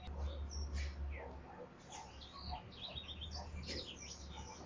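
Several birds chirp and twitter at a distance in the morning over a low, steady background hum, with quick scattered calls throughout.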